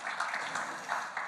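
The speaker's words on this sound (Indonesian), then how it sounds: "Yang mau berikan tepuk tangan bagi Tuhan kita." A church congregation claps together during a service, a brief stretch of steady, moderately loud applause.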